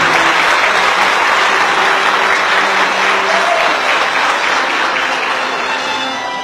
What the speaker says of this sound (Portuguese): Receba o aplauso desta igreja por tanto ano em sua família.